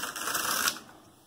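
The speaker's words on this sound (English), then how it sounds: "letting the carriage knit back from hold" A knitting machine carriage knitting a sideways sleeve slides back across the needle bed from hold, giving a quick rattling swish of needles clicking through in one pass that fades as it stops.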